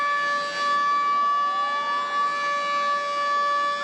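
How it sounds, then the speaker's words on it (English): A civil defense air raid siren sounds during a mock drill in Delhi, a loud sustained wailing tone with a pitch sweep rising partway through, continuous and alone. "you can already hear the air siren"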